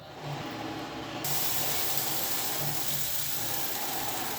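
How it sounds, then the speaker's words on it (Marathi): A steady, loud hiss of oil hitting a hot griddle, jumping up in intensity after a second and holding as an even, close sizzle. "तर असं तव्यावर तेल टाकलं"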